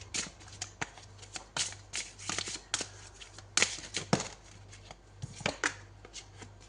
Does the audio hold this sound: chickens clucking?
no